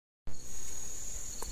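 A forest cricket on a wooded hilltop gives a continuous high, steady trill that starts abruptly and holds alone, with a faint rustle underneath.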